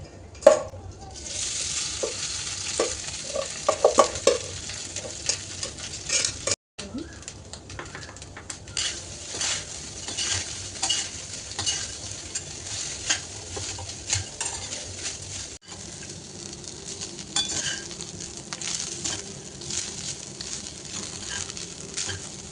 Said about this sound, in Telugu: తాలింపులోకి రైస్ వేసేసుకుని లెమన్ సాల్ట్ అన్నీ కూడా అందులో యాడ్ చేసేసుకుందాం